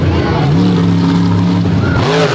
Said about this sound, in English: 557 cubic inches of Kevin Stauffer horsepower in this truck.